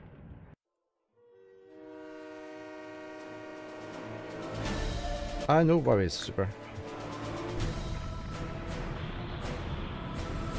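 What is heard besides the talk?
train crashing in the Secret Files: Tunguska video game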